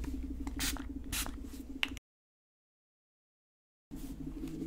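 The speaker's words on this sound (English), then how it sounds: "I'm going to clean the screen real quick." Two short hissing bursts of Calyptus screen cleaner spray onto an iPad screen, followed by soft wiping. The sound cuts out to silence partway through, then faint rubbing resumes.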